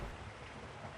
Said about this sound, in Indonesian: Seiring berjalannya waktu, musim hujan pun kembali datang.